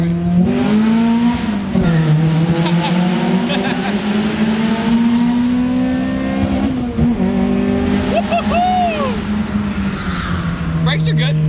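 Honda Prelude engine revving hard through the gears into VTEC, loud and sustained from inside the car, with pitch climbing and dropping between shifts while occupants talk and shout over it.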